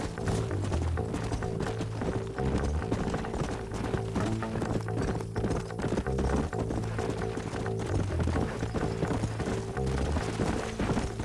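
Horses gallop steadily in the video game Red Dead Redemption on PS5, with rapid, rhythmic hoofbeats pounding close and continuous over a dense layer of background sound.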